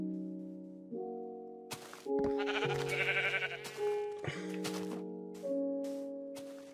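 A Minecraft sheep bleats in short wavering cries over sustained tonal in-game music, with soft thunks between, a few bleats spread across the stretch at close, moderate loudness.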